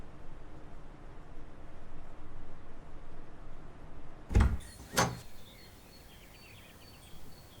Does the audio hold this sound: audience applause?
no